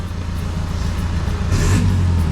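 A Toyota Revo pickup engine fitted with a Dino Box electric throttle controller revs up loudly and close, its steady mid-range drone swelling into a stronger burst of throttle toward the end.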